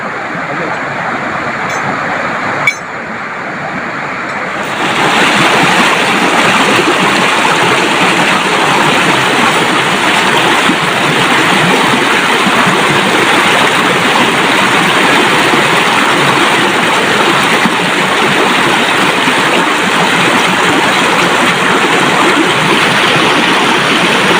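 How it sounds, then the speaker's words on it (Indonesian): A river flowing at an estuary in the rainy season, a dense, steady rush of water that fills the scene, getting louder after a brief quieter start and going on without speech. "jadi ini kebetulan di daerah sungai"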